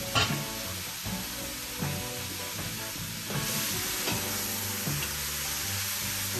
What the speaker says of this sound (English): we're going to go ahead and add this beautiful meat